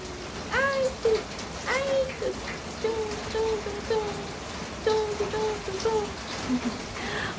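Heavy rain falls steadily as a broad, continuous hiss, while a voice speaks and sings in short rising and falling phrases over it.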